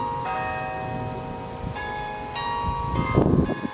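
A church clock bell rings out in repeated resonant strikes, each one swelling and lingering with a long metallic hum, heard outdoors against a low background rumble with no voices.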